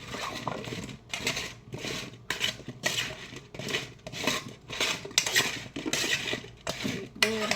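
A utensil stirs seasonings into sweet potatoes in a pot, a steady run of rhythmic scraping and clinking strokes, close and fairly loud, with no talking.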